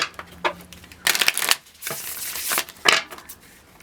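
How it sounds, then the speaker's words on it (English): Quick riffling bursts of tarot cards being shuffled, several separate rapid flurries with short pauses between, close and fairly loud. "One more shuffle."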